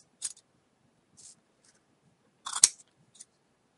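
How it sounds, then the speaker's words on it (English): Scissors trim loose ends on a handmade card in a few short, crisp snips close by, separated by quiet pauses, the last cut the loudest. "Now I'm just going to cut off the loose ends."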